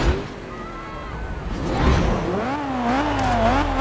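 A Lancia rally car engine revs and climbs in Forza Horizon 2, the pitch rising and falling as the car accelerates, loud and close with a steady roar beneath.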